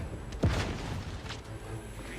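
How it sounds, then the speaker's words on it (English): A grenade explosion in the video game The Outer Worlds 2: a single sharp boom followed by a rumbling tail, with a fainter burst later. "So non-stop grenades is what freaking sucks."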